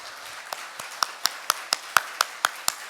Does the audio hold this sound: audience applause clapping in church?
yes